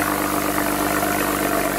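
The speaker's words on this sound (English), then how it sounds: "Get you guys a little exhaust clip." A BMW 335i idles on a cold start, its exhaust giving a steady, even low rumble with a constant drone and no revving, close to the microphone.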